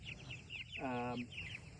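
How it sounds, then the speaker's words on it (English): Cornish Cross broiler chickens in a mobile chicken coop give a single faint, brief cluck amid soft outdoor background noise. "This is our broiler chickens, Cornish cross."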